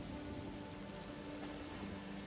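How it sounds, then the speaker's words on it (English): Steady rain falls in the video game The Elder Scrolls Online during a storm, a constant dense patter on surfaces with a faint low hum beneath and no breaks. "I could do without this damnable rain."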